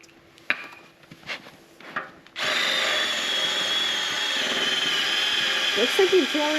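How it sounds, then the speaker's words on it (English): A power drill starts after a few knocks and clatters and runs steadily for several seconds, drilling at an angle into a metal pin in a shop, with a voice briefly heard near the end. "Looks like you're drilling at an angle to me."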